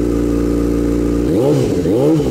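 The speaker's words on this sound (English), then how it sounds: "So I'm gonna do only a quick couple of revs" A 2008 Yamaha R6S street tracker motorcycle engine idles with a deep throb, then revs sharply twice in quick succession through a loud exhaust, loud and close, the pitch rising and falling.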